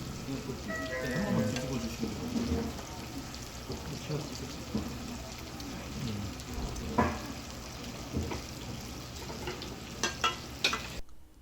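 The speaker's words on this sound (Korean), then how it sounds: "불이 올라오면 저어줍니다." Beef tripe fries over a restaurant fire while being stirred, a dense crackling sizzle with scraping strokes and occasional sharper clatters, with voices talking underneath.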